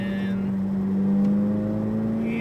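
Corvette Z06 accelerating on a race track, a steady engine drone that rises slowly in pitch, heard close and continuous with no talk over it.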